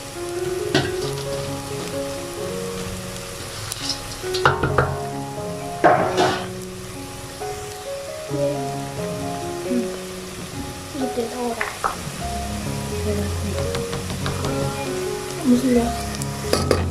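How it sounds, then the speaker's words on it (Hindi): Onions sizzle and fry in hot oil with a steady crackle, occasional stirring clatter, and background music playing throughout. "जब तक प्याज फ्राई हो रहा है"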